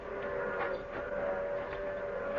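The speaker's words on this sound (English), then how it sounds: "The train's coming." An approaching train on a Western frontier line, a steady droning rumble with a sustained whistle-like tone running throughout, fairly loud and continuous with no talk over it.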